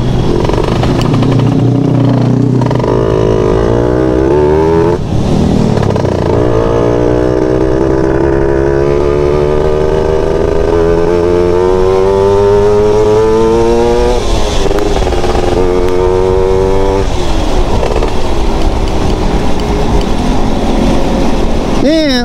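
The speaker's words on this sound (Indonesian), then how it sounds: "Tadi lebih parah macetnya di sini." Motorcycles and cars crawling in heavy rush-hour traffic, loud nearby engines with revving tones rising and falling throughout, constant dense road noise, with a voice talking over it at times.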